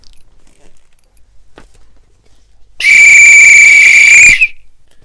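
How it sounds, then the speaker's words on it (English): A single loud, shrill guard's whistle blast held steadily for about a second and a half, cutting off abruptly after near silence. "blew the guard's whistle so loudly that they all stopped to look at him"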